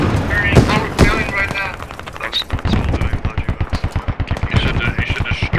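Gunfire in Squad with the Middle East Escalation mod: dense rapid automatic bursts and sharp shots, interleaved with heavy impacts, while voices talk over the battle.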